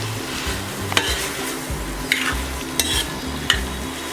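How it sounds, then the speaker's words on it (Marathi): Mixed vegetables are stirred and sautéed in a pan, a continuous sizzle of frying with several sharp scrapes and clinks of a spoon against the pan, close and clear. "एक वेळ आपण भाजी परतून घेऊया अशी बघा"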